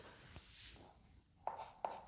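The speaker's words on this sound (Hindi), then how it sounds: "मैं लिख के दिखाता हूँ, सीधा लिखता हूँ।" A sentence is written on a board with a marker or chalk, giving faint scratchy strokes and then three short, sharp squeaks close together near the end, in a quiet room.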